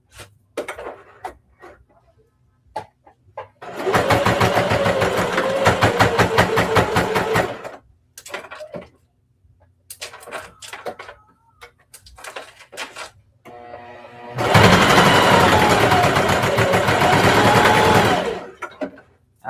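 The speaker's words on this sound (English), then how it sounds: "So now we're just going to sew straight across." A sewing machine stitches straight across a fabric handbag in two loud, steady bursts, each lasting about four seconds, with quieter handling sounds and pauses between them.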